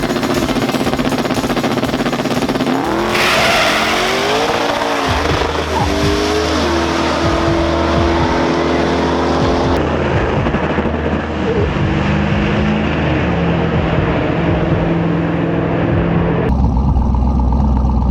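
A street car launching and accelerating hard down a drag strip at a street car takeover race in Tulsa, with a loud engine roar rising in pitch through several gear changes, heard up close and sustained throughout.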